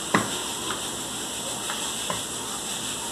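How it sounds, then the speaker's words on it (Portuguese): Onion goes into a hot pan with bacon and garlic, giving a steady, even sizzle with a few soft stirring taps. "Agora que eu vou colocar a cebola."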